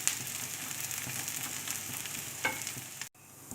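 A dosa fries on a hot pan with a steady, close crackling sizzle, sprinkled with small pops, running unbroken until it cuts off briefly near the end and resumes more softly.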